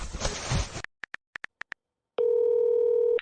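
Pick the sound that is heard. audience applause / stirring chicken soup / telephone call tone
telephone call tone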